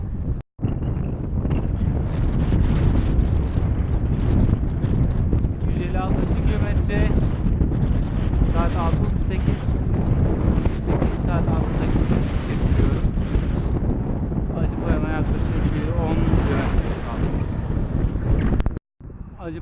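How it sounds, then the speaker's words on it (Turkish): Strong headwind buffets the microphone on a long-distance ride between Antalya and Denizli, a loud, continuous low roar, with faint voice-like tones surfacing briefly under the gusts. "rüzgar karşıdan vuruyor"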